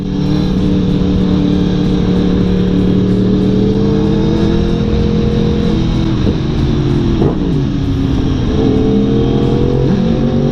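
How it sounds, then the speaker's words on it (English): A 2018 Yamaha MT-10 (FZ-10) motorcycle with a Pipe Werx exhaust idles and revs with a raspy, steady engine note, loud and close, pitch dipping and rising briefly near the end. "I do like the sound of my bike though. It's more of a raspy noise than a rumble."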